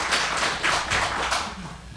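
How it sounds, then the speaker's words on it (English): A panel audience at a civic summit on green spaces claps in a round of applause, a dense, steady patter of many hands that stays fairly even for about two seconds before thinning slightly at the end. "Let's give a round of applause."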